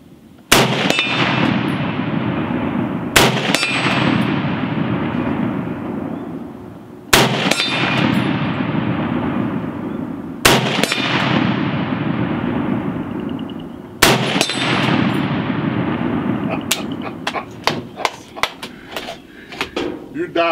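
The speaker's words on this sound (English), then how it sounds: "The percussion on that rifle is amazing." Ohio Ordnance Works BAR 1918A3 rifle firing at a live-fire range: five loud, sharp reports spaced several seconds apart, each followed by a long rumbling decay, then a quick run of fainter, tighter shots near the end, with voices talking underneath.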